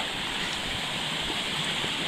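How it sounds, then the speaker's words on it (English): A brook in Mount Carleton Provincial Park, New Brunswick, rushes steadily and close by, a continuous broadband hiss of flowing water with no pauses or voices. "Alright, here's that brook I mentioned."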